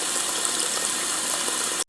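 An ambient water drip sample layered into a hyperpop beat forms a dense, steady watery wash with a trickling texture. It holds at an even level, then cuts off abruptly at the end.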